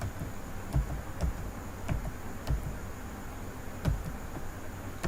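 Keystrokes on a computer keyboard during a Windows fix, heard as a handful of separate, fairly soft clicks spaced irregularly over a steady low background hiss.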